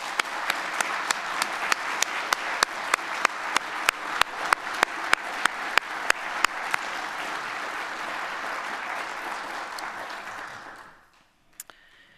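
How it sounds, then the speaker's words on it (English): An audience applauds an award recipient at a university faculty awards ceremony, sustained clapping with a few loud nearby claps on top, fading out at the end. "Please join me in giving a round of applause for Dr. Flint"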